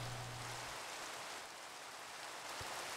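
Steady rain falling in the Minecraft video game, a continuous soft hiss of drops filling the whole stretch at an even, moderate level with no voices.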